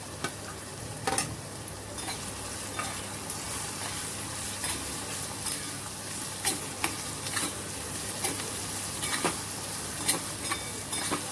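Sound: sautéing cumin and green chili paste in a pan

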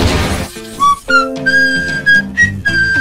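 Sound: whistling tunes

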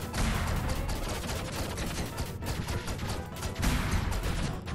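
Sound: gunfire from an enemy in the Owlboy video game

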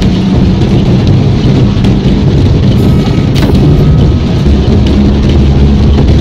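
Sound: continuous rain

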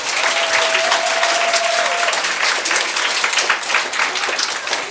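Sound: applause for the children

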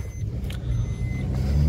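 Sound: Maruti Baleno CNG car running

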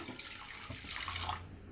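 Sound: water poured into a kadai pan

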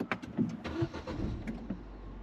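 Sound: four-cylinder car engine starting

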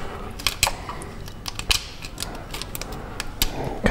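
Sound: pick spreading tabs of brake line retainer clip

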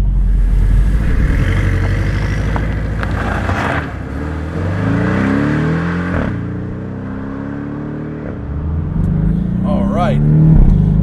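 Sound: Porsche 718 Boxster S engine while driving

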